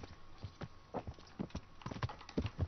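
Horse hooves in the video game Kingdom Come Deliverance clip-clop in a quick, uneven rhythm of sharp knocks, close and fairly quiet, with no talk.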